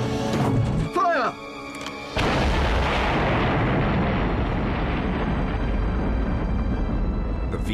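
A V-2 rocket launches with a sudden deep roaring blast that swells into a sustained, loud, broadband rumble lasting several seconds, following a brief shouted command and a short lull.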